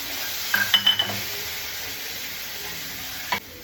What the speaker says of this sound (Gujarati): તો તેલ ગરમ થઈ ગયું છે. હવે જીરું નાખી દઈશું. ક્રશ કરેલું આખું લાલ મરચું અને લસણ પણ નાખી દઈશું.